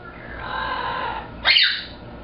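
A small lorikeet gives a shrill, buzzy squawk, one loud close burst over quieter screechy chatter in an indoor setting near an aluminum bird cage.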